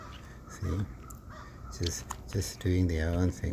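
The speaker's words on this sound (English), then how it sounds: "You can hear the birds and the music and the sunshine outside" Crows caw outdoors on a sunny day, a few loud harsh calls near the end with someone talking over and between them.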